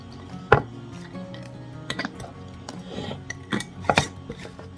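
Handful of freeze-dried sliced zucchini tossed into a pan, producing a scatter of light, dry clattering taps and rustles of varying loudness, close up and with no talking.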